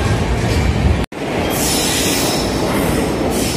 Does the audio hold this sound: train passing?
yes